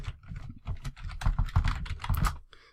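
Fingers type on a computer keyboard in quick, uneven runs of close, crisp key clicks, closing with a few final taps and no speech.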